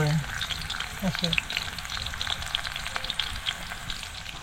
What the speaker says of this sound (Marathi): तेल तापलंय आता आपल्याला ह्याच्यात लसूण टाकायचे